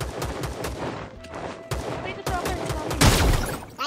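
Rapid gunfire in the mobile battle royale game Rules of Survival, a loud burst of repeated shots and fusillades, with the heaviest volley near the end, while players talk over it.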